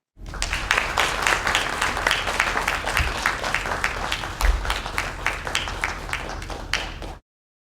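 An audience at a Caribbean studies event breaks into warm, steady applause to welcome a speaker to the stage, with many hands clapping in a dense, even rhythm that holds for several seconds before stopping abruptly.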